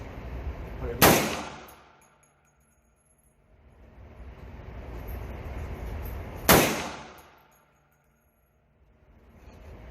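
Two loud, sharp gunshots from a custom .350 Legend rifle fired at 25 yards outdoors, each with a long decaying echo, spaced about five seconds apart.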